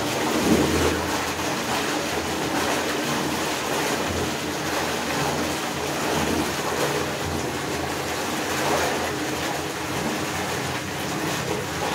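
Water and air gush from a borewell under compressed-air pressure cleaning, a loud continuous roaring rush that stays dense and steady from start to finish with no talking.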